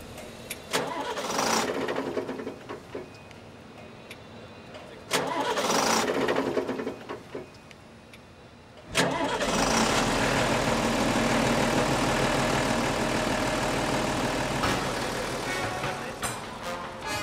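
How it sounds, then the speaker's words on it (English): The engine of a Minka track-laying machine's gantry crane cranks twice in short bursts, then catches and settles into a loud, steady, rough idle that continues to the end. "Ja, bitte Motor starten."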